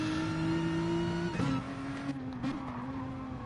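Race cars circle the Nürburgring in a racing video game, a heavy GT car and a Subaru running close together; a steady, droning engine note holds near, then dips and shifts as gears change.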